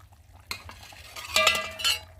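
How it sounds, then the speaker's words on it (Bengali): Potatoes are stirred in a pot of simmering egg curry cooked outdoors, with a few scraping, clinking spoon strokes against the pot over a low bubbling background, two stronger bursts near the end. "এই দেখো এখন আমি আলুটাকে নেড়ে দেবো"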